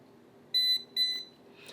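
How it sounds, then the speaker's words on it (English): A handheld voltage tester gives two short, clear electronic beeps in a row as it is switched off, close by and alone over a quiet room hum. "so it'll beep when I turn it off."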